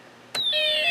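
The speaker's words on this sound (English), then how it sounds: "we hear the alarm IC going off and Space War IC" Snap Circuits kit music, alarm and Space War sound ICs play through a small speaker, switching on after a faint hiss with a click, then sustained electronic tones with sliding pitches, steady and fairly loud.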